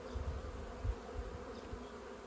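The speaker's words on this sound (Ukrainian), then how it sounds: "такий рій у нас вилетів" Honeybee swarm pouring out of a hive in spring, a dense continuous buzzing drone of many bees with occasional louder passes near the microphone, fairly faint overall.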